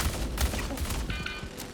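A Fresnel Volt LMG in the Star Citizen video game fires a rapid, sustained burst of close, loud shots, each crack following tightly on the last.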